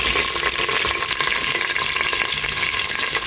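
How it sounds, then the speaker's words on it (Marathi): Onions and curry leaves sizzle loudly in a hot pan with black pepper, a dense, steady crackling fry close up and without pause. "ओके, आणि करी लिव्स घायले तशें घालता आमचे ऑनियन"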